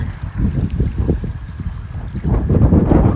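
Gusty wind buffets the microphone while a canoe is paddled through a swampy waterway, with steady low rumbling and splashy water movement and no voices.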